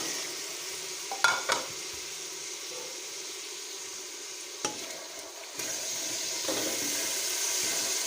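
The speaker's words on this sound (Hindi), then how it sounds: "अदरक लहसुन और टमाटर का पेस्ट जो है वो अच्छी तरह फ्राई हो गया है।" Ginger, garlic and tomato paste with green chillies, for a mixed moong and masoor dal, sizzles steadily in a pan, broken by a few sharp scrapes and stirs, close and continuous with no talking.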